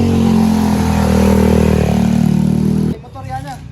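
A motorcycle engine passes close by, a loud, sustained droning growl that cuts off abruptly near the end, leaving faint background chatter and voices.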